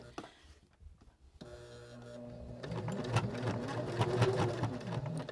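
Sewing machine top stitching a pocket slowly through thick, bulky fabric layers: a few soft taps, then a steadily building mechanical whirr of rapid needle strokes, close and moderately quiet.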